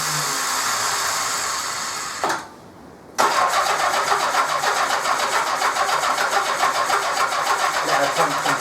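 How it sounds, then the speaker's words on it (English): A 1984 Honda GL1200 Goldwing Aspencade motorcycle engine cranks on the starter, cuts out for about a second, then fires and runs loudly and steadily with a busy mechanical chatter, with no talk over it. "Let her pump some fuel through."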